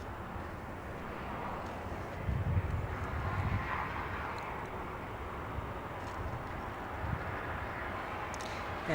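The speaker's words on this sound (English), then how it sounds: "there goes Qatar Airways heading to the south" A Qatar Airways airliner departs Los Angeles airport, its broad engine roar steady and moderately loud throughout, with a brief swell partway through.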